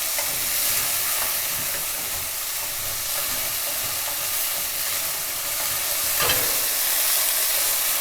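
Potatoes sizzle steadily in a pan on the stove after a couple of tablespoons of water go in, giving a loud, constant frying hiss that carries through the whole stretch with no talking.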